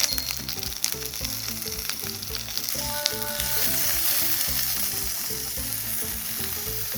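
Steady, loud sizzling of asparagus frying in an oiled pan, with crackling pops and occasional scraping of a utensil stirring throughout.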